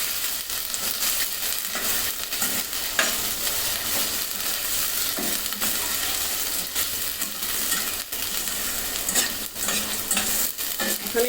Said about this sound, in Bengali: টমেটোর সাথে আমি মশলাটার সাথে টমেটোটা আরও তিন চার মিনিটের মতন ভালো মতন ভুনে নিব